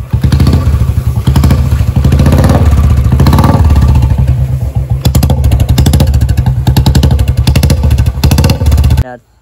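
A Bullet motorcycle engine runs loud and close right after starting, with a fast, even, heavy thumping beat that continues until it cuts off abruptly near the end.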